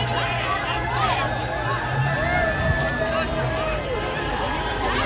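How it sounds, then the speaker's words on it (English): A huge crowd of protesters at a nationwide No Kings rally against the Trump administration, its dense babble of many voices and chatter rolling steadily and close throughout, with scattered louder calls. "It is a huge, huge crowd."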